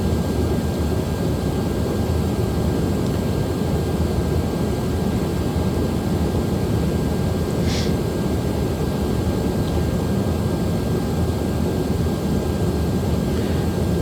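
Steady, loud roar of Airbus A330 jet engines in Microsoft Flight Simulator, a constant broadband rumble with a faint high whine, continuous throughout with no talking.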